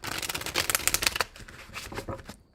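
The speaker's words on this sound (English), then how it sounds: "Last shuffle." A tarot deck is shuffled up close: a fast, crisp riffle of crackling card flutters for about a second, then softer, sparser rustles trail off toward the end.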